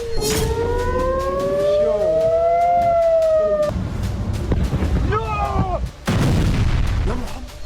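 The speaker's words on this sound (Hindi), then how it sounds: "बारूदी अटैक का यह वीडियो इजराइल की राजधानी तेल अवीव का है" Civil defense sirens wail over Tel Aviv, Israel, during an Iranian ballistic missile attack, their rising tones holding and then cutting off, with heavy booming explosions and loud rumbling, and voices faintly underneath.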